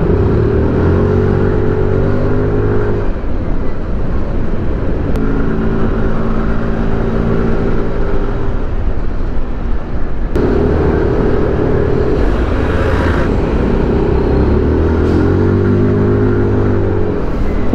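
Night road traffic in Bicutan at 11 PM, heard from an NMAX 155 motor scooter. Engines hum steadily and close, with repeated rising rev tones as vehicles pull away.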